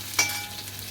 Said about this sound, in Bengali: পটল একটু ভাজা করে নেব